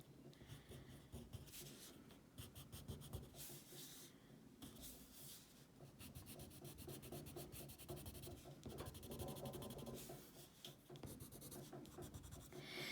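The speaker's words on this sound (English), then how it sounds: "take my white pencil, and I'm just going to go in and smudge around on the brightest highlights" Continuous scratchy rubbing of a white colored pencil smudging on paper, close and steady with short back-and-forth strokes, nobody speaking.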